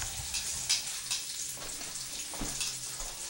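A pancake fries in a pan at home, giving a steady soft sizzle with a few brief scraping or tapping touches, fairly close and without talk.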